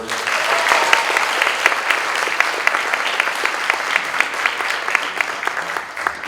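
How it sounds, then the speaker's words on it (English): Concert audience at a winter school band concert applauding a soloist, a full, sustained round of many hands clapping at a steady moderate level, with no talk over it. "another round of applause for our soloist"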